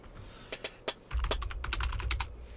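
Typing on a computer keyboard: a few isolated key taps, then a quick burst of rapid clacking keystrokes, close and clear with no talking.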